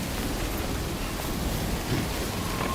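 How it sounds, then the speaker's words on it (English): Heavy rain in the video game Death Stranding, a steady broadband hiss that holds constant and fairly loud throughout, with no voices over it. "Rain is super loud."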